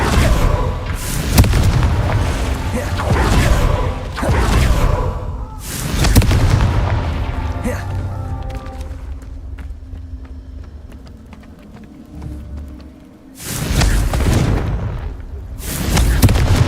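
Repeated Confringo spell explosions in Hogwarts Legacy, heavy booming blasts arriving in bursts a few seconds apart, with quieter debris and ambience between them.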